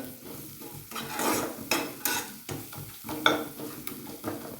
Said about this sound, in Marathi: हळद टाकल्याच्या नंतर हे सगळं आपण मिक्स करून घेऊया